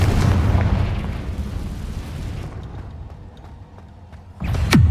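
A heavy explosive blast from the Confringo spell in Hogwarts Legacy, a sustained rumbling boom that slowly fades, then a fresh sharp burst near the end, loud and without speech.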